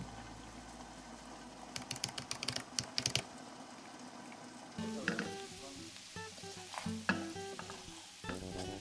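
Potatoes frying in hot oil in a pan for a Bengali jackfruit curry, a steady soft sizzle broken by bursts of stirring and crackle, close and moderately loud, with no talking.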